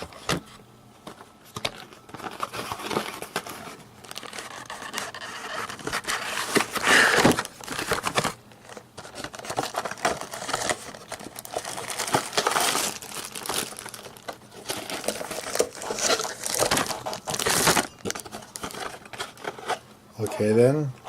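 Crinkling and tearing of plastic and paper packaging as a Mac Pro upgrade kit is unwrapped, in bursts of rustling close to the microphone, with someone talking intermittently throughout.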